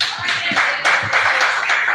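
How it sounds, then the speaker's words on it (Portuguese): Congregation at a Wednesday evangelical service clapping for Jesus, loud rhythmic claps in regular bursts of roughly four per second, close and strong, with no clear speech. "mais palmas para Jesus"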